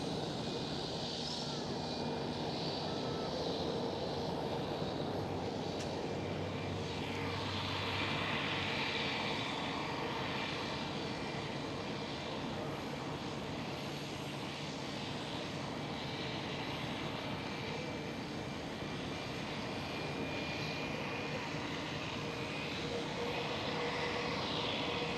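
A British Airways jet starts up its engines at Amsterdam Schiphol Airport, a steady distant roar with a thin rising whine held for a long stretch under a constant airport hum.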